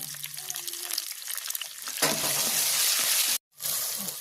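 Tomato dropped into a hot pan for Kerala-style fish curry, a soft sizzle that jumps to a loud, steady frying hiss, briefly cut off, then resuming, with a little speech early on.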